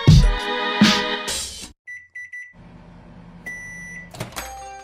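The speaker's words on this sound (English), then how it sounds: "How long are we going in the microwave?" A microwave oven beeps a few times at a high pitch, then settles into a low, steady running hum. Louder broadband clatter and noise come before it.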